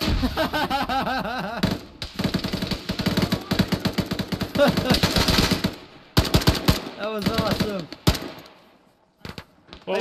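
Rapid machine-gun bursts ring out in an Arma combat game, several long strings of gunfire close and loud with brief gaps, while voices talk over the shooting.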